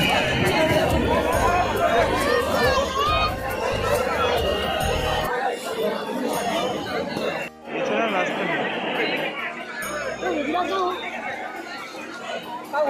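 A dense crowd of pilgrims gathers at the Maha Kumbh 2025 for the Magh Purnima royal bath, filling the air with continuous loud overlapping chatter and voices close by.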